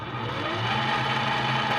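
A Mx. Cool Aries coffee grinder spins with no beans inside, giving off a steady, close mechanical whir with a low motor hum that holds unbroken throughout.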